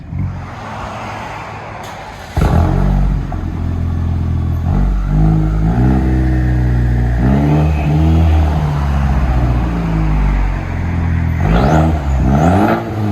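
A Chevy Silverado with a 2.7L turbo engine, heard from inside the cab, idles with a low rumble and then revs repeatedly in loud, rising surges that fall back between blips.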